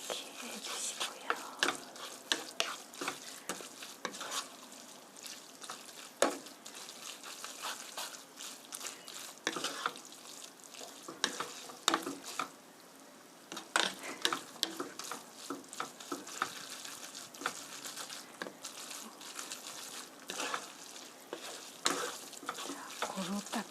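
Spicy spaghetti being stir-fried and stirred in a pan at a camp kitchen, with steady scraping and light sizzling that runs close and continuous, with scattered clinks and no talk.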